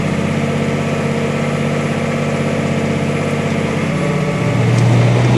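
A loud, steady six-cylinder tractor engine drone rumbles throughout while ploughing, deep and continuous, rising slightly in pitch and strain toward the end as the tractor works.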